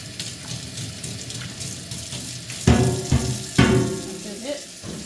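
Running water while milking equipment and lines are rinsed out after milking, a steady splashing flow with louder gushes midway as water is poured, nearby and alone.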